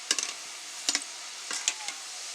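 Snack dough pressed into hot oil in a kadai fries with a soft steady sizzle, punctuated by a few short bursts of crackle as fresh strands hit the oil, close and alone.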